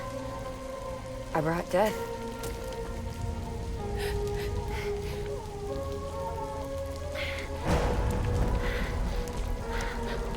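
Timefall rain from the video game Death Stranding falls steadily as a continuous patter behind a spoken line of game dialogue, with a brief rumble toward the end.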